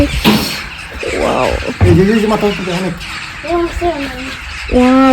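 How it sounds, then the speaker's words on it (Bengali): Birds squawking nearby around corn at a barbecue party, in a burst of harsh, uneven calls, loud and close, with some chirps mixed in. "এই যে পাখিগুলো কি করতেছে"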